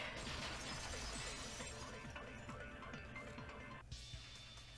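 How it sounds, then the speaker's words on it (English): Glass shatters in a sustained, bright crashing burst with tinkling shards, followed by a second crash near the end, a loud sound effect from the Danganronpa 2 video game. "At the entrance hall, the girls heard the sound of the window shattering."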